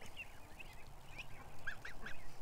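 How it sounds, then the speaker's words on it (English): A goose with a golden-tinged coat, once white, gives a string of short nasal honks of varying pitch, fairly close and growing busier toward the end, with no voices. "I don't know what kind of goose it is."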